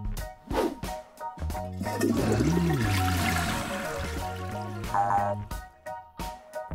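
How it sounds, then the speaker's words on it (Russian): A toilet flushes with a rushing, gurgling swirl of water, fairly close, rising and then trailing off, with brief bursts of other sounds around it. "Смывать за собой унитаз."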